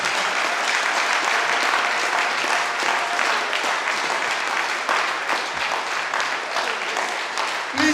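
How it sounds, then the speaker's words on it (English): Audience applause at the launch of a graduates association, steady dense clapping from a large crowd that continues without a break, with faint voices mixed in. "Please let's give a round of applause"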